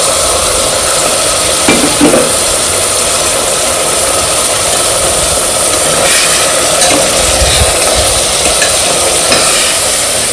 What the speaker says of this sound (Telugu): ఇలాగా స్టిర్ చేస్తూ మనము కొంచెంగా కలుపుకోవాలి, మరీ ఎక్కువ కలుపుకూడదు